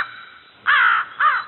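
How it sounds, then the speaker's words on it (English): A crow caws twice, loud and close, with a short gap between the two harsh calls and nothing else heard. "the crow lifted up her head and began to caw her best"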